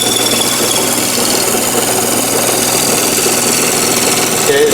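A lathe runs steadily while cutting an arrow shaft cutter, giving a continuous loud mechanical hum and whir with no pauses.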